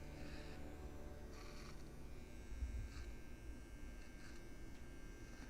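Electric clippers trim the hair on a corgi's paws, a faint, steady buzzing hum running throughout with slight shifts in tone as the blades move through the fur.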